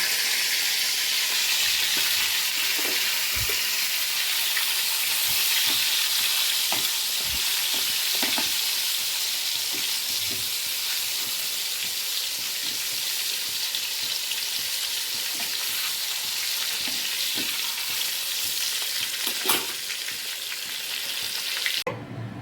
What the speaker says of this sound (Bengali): তেল গরম হয়ে গেছে, মাছের মাথাটা ভেজে নেব।